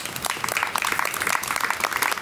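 Applause from an audience at a Vietnam War dog memorial gathering, honoring people who brought a military dog home from overseas; a steady, moderately loud patter of many hands clapping throughout.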